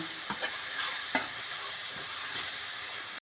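A spoon stirs salt, turmeric, garam masala and red chili powder through sizzling matar malai in a pan, with a few scraping strokes over a steady frying hiss, close by and alone.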